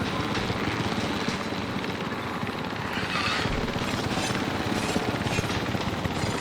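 Helicopter in the game Jurassic World Evolution 3, a steady whirring rotor drone with a faint mechanical hum, constant and fairly close throughout, with no talk.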